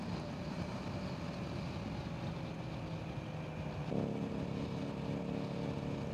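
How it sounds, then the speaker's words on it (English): A Kawasaki Z900 inline-four motorcycle engine drones steadily, a low rumbling hum that rises slightly in pitch partway through, with no voices. "Such a sweet sounding motorcycle."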